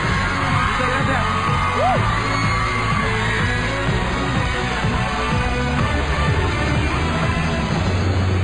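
A television talent-show studio audience on a live gala night cheers a singer, loud and close with whoops, yells and clapping in a dense continuous roar that never lets up.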